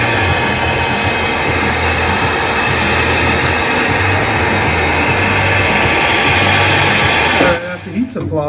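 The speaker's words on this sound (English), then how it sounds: "I am going to remove this sound deadener with a heat gun and a scraper." A heat gun blows hot air onto car sound deadener, a loud, steady close whoosh and hum that holds for several seconds before cutting off, followed by brief handling noise.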